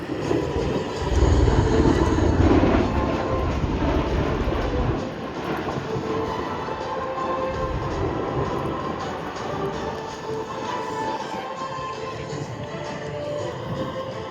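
A V-22 Osprey tiltrotor aircraft roars loudly overhead at an air show, a dense rumbling engine drone that swells early, then settles into a steady throb, with a voice talking underneath.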